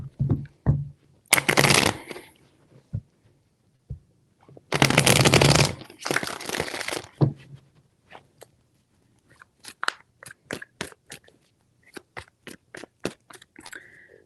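Tarot cards being shuffled in several riffling bursts, followed by a run of quick crisp taps and flicks as cards are handled and laid down.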